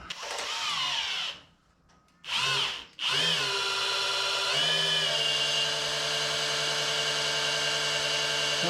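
A power drill drives a wobble-bit extension in a 1979 Corvette, whining loudly in a short burst, pausing briefly, then running steadily and close for several seconds.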